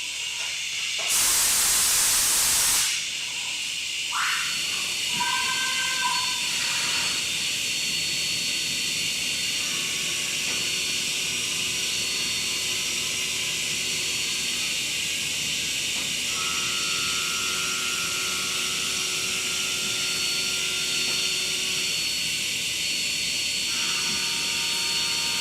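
A milling machine cuts with a tool held in a Haimer shrink-fit chuck, giving a steady hissing whine with sustained tonal ringing that shifts pitch over time, after a brief loud burst near the start.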